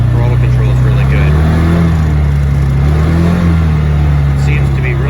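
Polaris Ranger 600 UTV engine fitted with an RNG clutch kit, steady loud mid-pitched drone that gently rises and falls in revs throughout, close to the mic.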